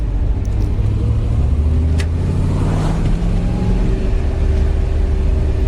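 A light MGB GT fitted with a V8 engine drives along with a loud, continuous low rumble and throaty drone, the engine note shifting slightly as it pulls, heard from inside the car.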